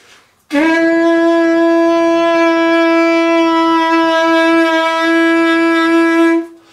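A single sustained saxophone note, steady and clear, held for about six seconds before stopping.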